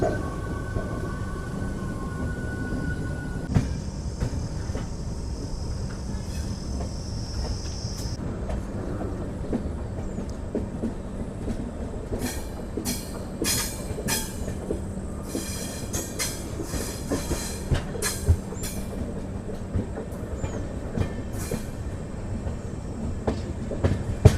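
Prashanti Nilayam Express with new LHB coaches rolling past near Penukonda station, a steady rumble of wheels on rail with rhythmic clatter and occasional squeals, continuous and fairly close throughout.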